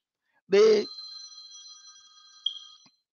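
A phone rings briefly during an online training session, a short tone that rings on and fades, following a burst of a voice just before it.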